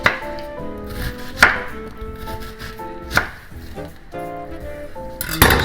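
A knife chops across an onion on a cutting board, with a few sharp, distinct knocks spaced over several seconds and quiet background sound in between.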